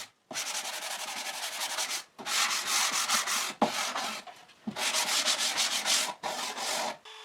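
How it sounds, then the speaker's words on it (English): Steady back-and-forth light sanding of wood, long rasping strokes repeated in a regular rhythm with brief pauses between passes, close and fairly loud. "A light sanding will make everything look smoother."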